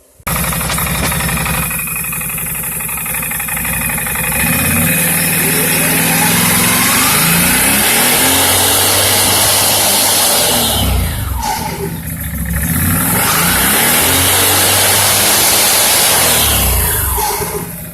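A Can-Am Outlander 570 ATV fitted with a CVTech primary clutch revs hard with no load, its engine note climbing and falling in repeated sweeping runs that hold high revs for long stretches, loud and close throughout.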